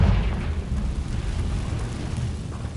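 A Confringo fire spell goes off in the video game Hogwarts Legacy, producing a loud, deep rumbling explosion that starts at full force and keeps roaring at a steady level without fading over its few seconds.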